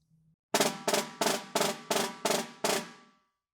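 Quieter snare drum roll with more bounces per hand, seven evenly spaced buzzing strokes in a steady rhythm, each a short rattling burst, close and moderately loud after a faint hum.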